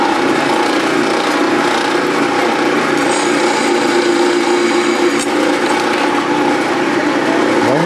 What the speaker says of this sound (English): So first you drill a little puddle hole.